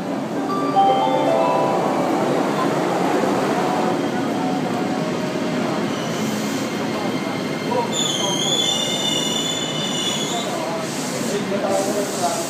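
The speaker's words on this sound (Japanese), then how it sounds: "1番線に電車が到着しますご注意ください" A four-car JR 225-series Kansai Airport/Kishuji Rapid train on the Hanwa Line rumbles into Mikunigaoka Station with loud, continuous rail noise and high metallic wheel squeals, while a Japanese announcement plays over it.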